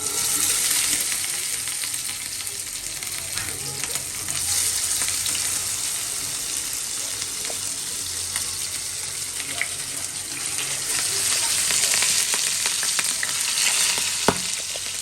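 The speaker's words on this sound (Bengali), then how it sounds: "তেল গরম হয়ে গেছে, এবারে একটা করে কাতলা মাছ দিয়ে দেওয়া হবে।" Pieces of katla fish fry in hot oil, giving a steady, loud, dense sizzle that runs unbroken through the whole stretch, with a few faint clinks and no voices.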